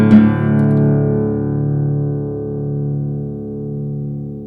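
A 1950s–60s Brazilian-made Savona classical guitar rings out from a single plucked chord, its warm, resonant sustain decaying slowly over several seconds, close and clear with no talking.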